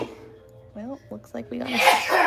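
A single sharp human sneeze bursts out near the end, following a man's quiet remark indoors.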